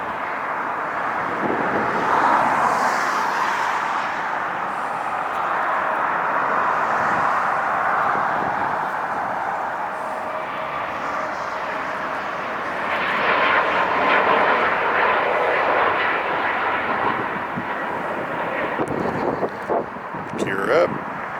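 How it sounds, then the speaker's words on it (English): A heavy jet airliner roars past at LAX airport, a broad sustained engine rumble and whine that swells and fades over about twenty seconds, with wind buffeting the microphone. "I wish I was flying on one of these planes right now."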